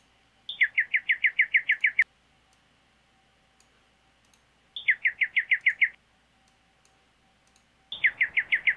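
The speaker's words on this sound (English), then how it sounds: "Now you can see, you just see the bird chirping." A bird sings in three bursts of rapid, evenly spaced chirps, each a quick repeated trill, heard clearly against a quiet, noise-reduced background.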